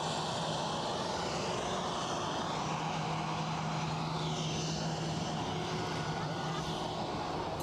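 An Aer Lingus airliner taking off, a continuous, moderately loud engine roar with low humming tones and a whooshing upper hiss that swirls and shifts, heard from some distance.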